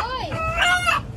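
A rooster crows once in a short, loud, near call with a rising then falling contour, heard alone against faint outdoor background.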